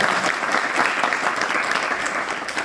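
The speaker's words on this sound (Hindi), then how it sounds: "एक बार अपने माता पिता के लिए जोरदार तालियां बजाइए दोनों हाथों से।" Students applaud loudly at a school motivational talk in a Hindi-speaking setting, a dense, steady burst of many hands clapping together, close and sustained for a few seconds with no talk over it.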